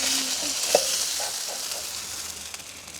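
Pond fish sizzling steadily as it fries in a pan with masala, a continuous crackling hiss with a few brief clicks and no talking.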